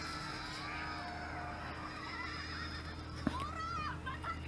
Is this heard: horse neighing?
yes